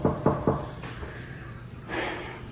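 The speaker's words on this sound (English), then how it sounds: "now that I've knocked on the window and I've knocked on the door" Three quick knocks on a door at a public records office where the service bell goes unanswered, sharp and fairly close, followed by quieter room noise and a faint rustle.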